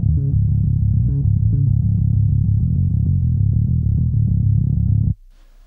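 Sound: compressed bass low band, Neural DSP Parallax, 175 Hz low pass

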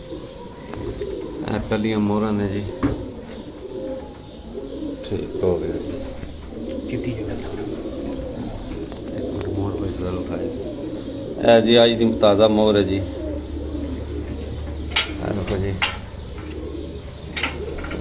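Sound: pigeons cooing at pigeon sports tournament

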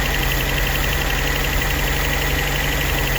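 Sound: VAZ 2109 engine idling unevenly, nearly stalling

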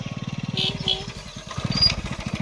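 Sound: motorcycle arriving

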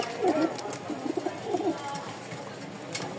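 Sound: racing pigeon cooing

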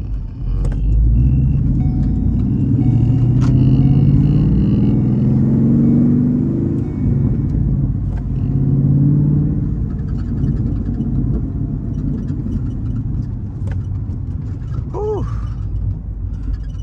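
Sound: 2014 Ford Mustang GT engine while driving

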